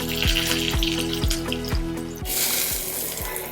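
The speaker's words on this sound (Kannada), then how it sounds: "ಈಗ ಇದು ಸಾಸಿವೆ ಸಿಡಿತಾ ಇದೆ." Mustard seeds spluttering in hot oil on a home stove: rapid, regular popping and crackling over a constant background hiss, loud and close, then a brighter sizzling burst near the end, with no talk.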